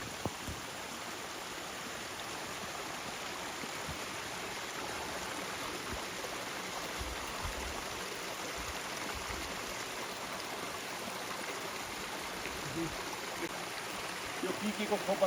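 Spring water flowing from a hillside spout in the forested mountains of Solukhumbu, a steady broadband rush and trickle heard close and continuous throughout, with no voices over it.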